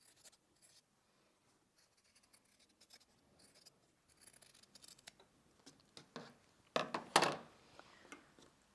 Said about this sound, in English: I'm going to cut those out on the line.